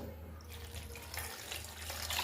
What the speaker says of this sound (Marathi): इथं माझ्याकडे पाणी आहे ते मी ॲड करते याच्यात